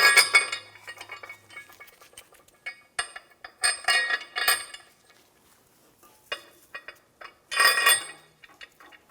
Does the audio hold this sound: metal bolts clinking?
yes